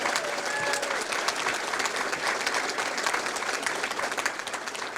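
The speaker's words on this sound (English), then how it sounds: "Can we give the crew a round of applause too?" A round of applause for an Honor Flight Rochester crew: steady, fairly loud clapping from a gathered crowd, dense and continuous throughout with a few sharper individual claps.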